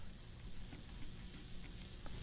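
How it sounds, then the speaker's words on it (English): Liquid nitrogen bubbles and hisses around a hot rubber hose, a dense, continuous fizzing at a fairly faint level, heard alone without talk. "you can hear it bubbling away. And the bubbling is taking place because the rubber hose is very hot compared to the liquid nitrogen"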